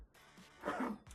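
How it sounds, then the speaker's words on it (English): A single cough bursts out briefly and fairly loudly in a quiet room during a relaxed spoken conversation, with no talking over it. "That was a cough."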